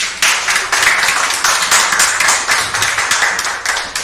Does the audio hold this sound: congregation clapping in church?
yes